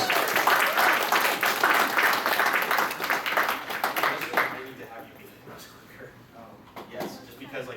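An anime convention audience at a game-show panel claps after a round, dense applause for about four seconds that then thins and fades out, with a voice talking over the tail.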